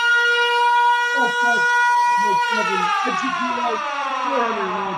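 A loud, steady wailing siren plays at a Yankees versus Mariners baseball game after a three-run home run, its sustained tone sliding slightly downward while someone talks over it.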